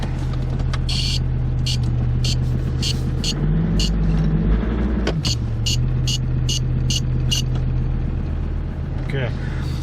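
Land Rover Discovery 2 engine idling steadily while warming up, parked against a rock, a constant low rumble with a slight shift in tone midway and repeated clicking ticks above it.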